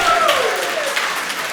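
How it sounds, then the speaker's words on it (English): An audience at a live music performance applauds, a dense continuous wash of clapping that holds steady and fairly loud throughout, with a faint voice underneath. "Let's have a great round of applause"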